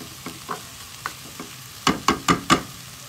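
A spoon stirs Filipino shrimp paste (bagoong alamang) sautéing in a pan, giving soft scrapes at first and then four sharper, louder scraping strokes in quick succession over a faint sizzle.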